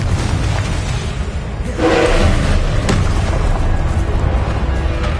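Confringo fire-blast spell cast in Hogwarts Legacy on PS5, a booming burst that swells at about two seconds and holds over a dense, rumbling background of combat noise.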